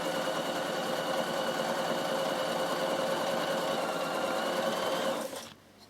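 A Bernina sewing machine top stitches a summer peak cap in one continuous, loud, even run that stops abruptly near the end.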